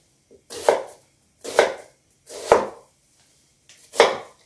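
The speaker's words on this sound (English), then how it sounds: "I've got a half of an onion here, and I'm gonna slice that up." A knife slicing through half a red onion on a cutting board makes four crisp, evenly spaced chops, close and clear, with short silences between them.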